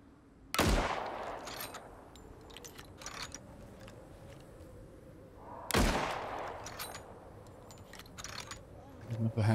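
Two loud, sharp gunshots in the video game ICARUS, several seconds apart, each a sudden crack with a short tail, over a steady background bed with faint voices.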